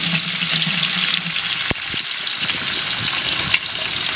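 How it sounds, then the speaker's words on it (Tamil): Onions frying in oil, roughly two kilos in a large batch of chicken biryani, make a loud, continuous sizzle with a few stirring knocks and scrapes partway through. "ஆனியன் நல்லா இந்த அளவுக்கு ப்ரௌன் ஆகிற அளவுக்கு ஃப்ரை பண்ணிக்கோங்க."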